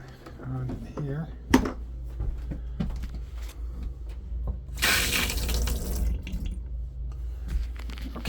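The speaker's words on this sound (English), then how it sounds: "Let's turn the water in on here." Water running from a tap inside an RV after a tankless water heater swap, a short burst of rushing flow in the middle amid clicks and handling noises, with talk around it.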